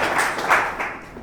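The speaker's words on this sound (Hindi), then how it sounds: "हम इनका भी तालियों से स्वागत करते हैं" At a Sunday evening church prayer service, a congregation applauds to welcome a new member. The burst of clapping is short and close, from a small group, and falls off quickly.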